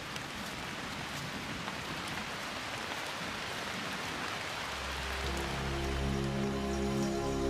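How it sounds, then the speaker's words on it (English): Monsoon rain falls steadily in the Western Ghats of South India, a dense even hiss of drops on foliage and ground, with a low rumbling layer rising toward the end. "where the rains will continue until September"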